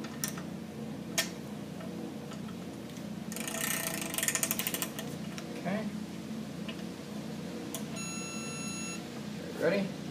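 A torque wrench fitted with a crowfoot extension adapter clicks and ratchets as a fastener is tightened, with short mechanical clicks and a burst of ratcheting, faint beeps later, and voices talking throughout.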